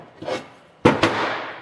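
A soft scrape, then two sharp hammer strikes in quick succession, close and loud, ringing briefly after each blow.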